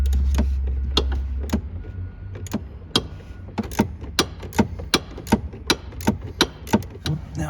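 A wrench is being turned on the HVAC blend door actuator of a 2005-2009 Ford Mustang, heard as a steady run of sharp ratchet clicks. The clicks come at an even rhythm and grow slightly louder and quicker toward the end.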